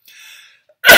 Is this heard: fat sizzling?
no